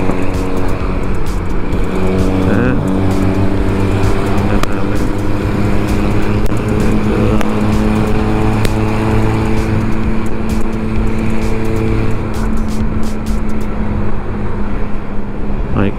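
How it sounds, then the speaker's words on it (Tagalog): Driving along the Lemon–Simangan stretch of the Palo-Carigara-Ormoc road, a fast-moving cargo truck produces a continuous loud engine drone with tire and road noise, close and steady throughout. "May kalakasan yung takbo na itong cargo truck na ito mga kapasada"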